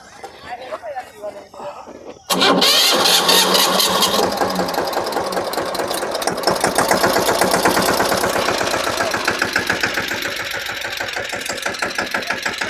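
A new tractor's diesel engine cranks to life with a sudden loud roar, then settles into a rhythmic diesel chugging; voices murmur faintly beforehand.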